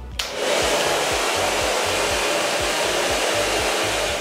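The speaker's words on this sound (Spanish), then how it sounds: "lo único que tenemos que hacer es encender el secador y dejarlo durante 20 minutos" Hair dryer switching on and blowing into a thermal hair treatment cap, a loud steady rushing whoosh with a low motor hum that runs without a break, no voices.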